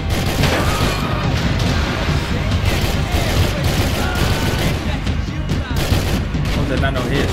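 Dense, continuous gunfire from the video game Max Payne 3, with overlapping shots and booms forming a loud, unbroken barrage that swamps the whole stretch.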